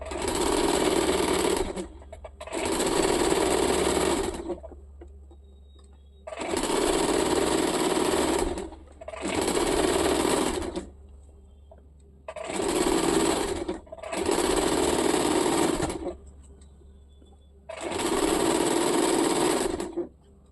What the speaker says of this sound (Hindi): इसी सिलाई के ऊपर हम लोग एक और सिलाई डाल देंगे।